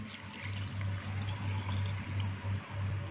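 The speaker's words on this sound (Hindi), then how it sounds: "जिस पानी में इसे भिगोया था वो पानी इसमें शामिल करके इसे ग्राइंड कर लेंगे" Soaking water from amla poured into a chopper holding the amla pulp, a steady, continuous splashing pour lasting about three seconds with no voices.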